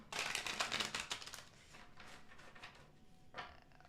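A tarot deck is shuffled by hand at close range, with a rapid riffling flutter of cards followed by softer sliding and a final brief riffle, fairly quiet overall.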